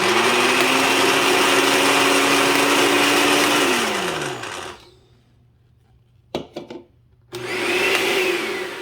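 A Walmart Mainstays 6-speed countertop blender whirs loudly, winds down and stops, a few clicks sound in the quiet, then the motor roars back up.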